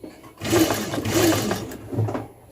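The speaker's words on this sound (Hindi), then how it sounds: "ये जो हमने अंदर वाला ट्रायंगल जमाया था इस पे हम सही करके सिलाई लगाएंगे धीरे धीरे।" A sewing machine stitching a formal shirt pocket runs in a short slow burst, with a soft rhythmic mechanical whir and clatter of the needle.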